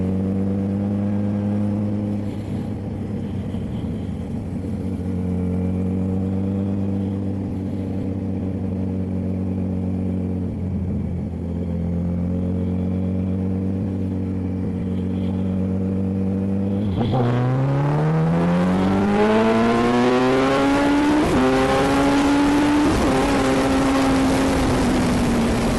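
A motorcycle accelerating on a cold road, its engine droning steadily at first, then revving hard through the gears, climbing in pitch and growing loud and close.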